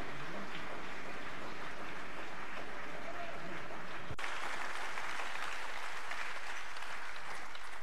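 Audience applause at a political Europe Together event, a dense wash of clapping that continues steadily throughout without a break, fairly quiet and heard from some distance.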